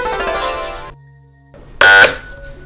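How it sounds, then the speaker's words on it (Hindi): A buzzer is pressed on a quiz show. A held electronic tone sounds first, then after a short silence comes a loud, sharp burst of about a quarter second. "जो सबसे पहले बजर दबाएगा वो ही उस शख्सियत के मुतालिक जवाब देगा"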